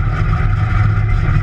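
Race car engine running at a speedway before the green flag, oil at about 130 degrees with thinned oil from fuel dumping; a loud, steady, close low rumble with no voices.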